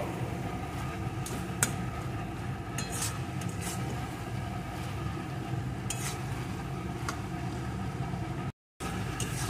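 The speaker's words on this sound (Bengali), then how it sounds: "এইভাবে একটু ঘেটে ঘেটে দেব।" Pumpkin leaf saag cooks in a pan, with a steady frying sizzle and intermittent sharp scrapes and taps of a spoon stirring the greens.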